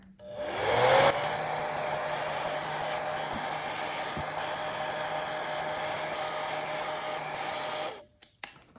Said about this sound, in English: I use my hairdryer.